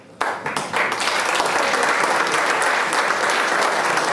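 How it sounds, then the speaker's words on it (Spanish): An audience at an award ceremony breaks into applause for a winner, starting with a few claps and swelling into a dense, steady, loud wash of clapping hands. "un aplauso para Rodolfo González, ganador"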